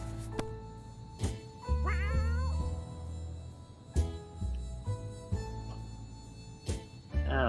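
A cat meows in the survival video game 60 Seconds! Reatomized, with a rising, wavering call rising above steady game music and occasional thumps.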